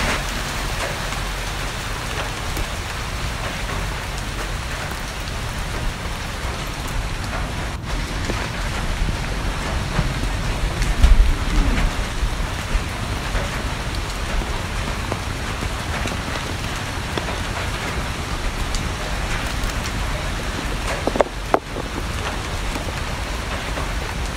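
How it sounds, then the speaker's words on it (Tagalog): Heavy rain pouring steadily outdoors, a dense continuous hiss of drops on surfaces with a couple of brief louder knocks, no voices. "Lakas ng ulan."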